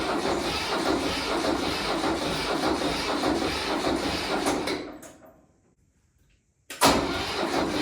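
A Ford 1700 tractor engine cranking on its second start attempt with jumper power, a loud steady churning that winds down to near silence before a sudden burst of sound returns.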